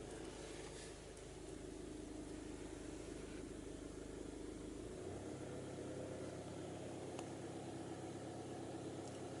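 A diesel car with over 180,000 km idles with a steady mechanical drone. Midway, as revs are raised to 1000 RPM, the deep low rumble drops away and a smoother, more even hum continues.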